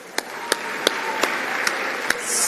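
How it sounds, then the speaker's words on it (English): Warm applause rises for the winners at the 2024 KZN Sport Awards, a steady wash of clapping punctuated by several sharp, louder claps in a regular rhythm, with a brighter burst of noise creeping in at the very end. "Another warm round of applause."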